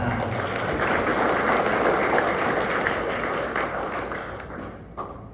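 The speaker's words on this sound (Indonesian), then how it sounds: "Tepuk tangan." A wedding congregation in a church applauds, a steady wash of clapping that holds for several seconds and then fades, with no talk over it.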